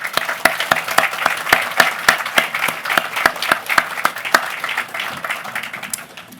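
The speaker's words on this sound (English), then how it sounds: "I think everybody deserves a round of applause." A live audience applauds special guests at a university event, a loud steady round of clapping with distinct individual claps standing out, slowly tapering toward the end.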